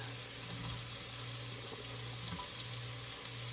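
Chopped onions sizzling and frying in a pan for macaroni and cheese, a steady bright hiss with crackle and a low hum underneath, close and continuous without speech.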